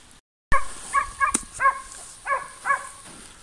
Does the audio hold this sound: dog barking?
yes